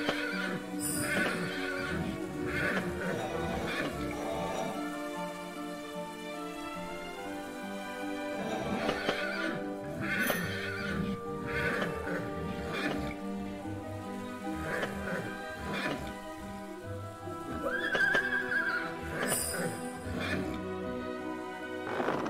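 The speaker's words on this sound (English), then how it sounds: "I gotta calm my horse down" A horse in the video game Endless Fables 3: Dark Moor neighs and whinnies over a steady layer of game music and ambience, with a distinct loud whinny near the end.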